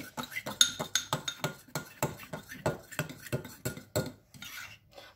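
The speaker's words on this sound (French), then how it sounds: "On mélange bien." Nutella and almond mug cake batter is stirred briskly in a mug. Quick, regular clinks and scrapes of a utensil against the sides follow one another for several seconds, close and fairly loud, then trail off into softer scraping.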